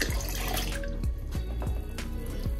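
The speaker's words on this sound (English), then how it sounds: "Now we'll add our priming sugar, which is apple juice," Martinelli's apple juice poured into a cider keg, a steady close trickle and splash of liquid with a gurgling rhythm, heard alone without talk.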